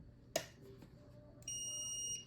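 Multimeter set to continuity, leads on a motorcycle stator: a soft click, then a steady, thin electronic beep sounding for about a second, faint against quiet room hiss.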